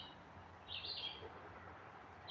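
Bird calling somewhere distant: two brief, high chirping calls, faint against a low steady background rumble, with no talk.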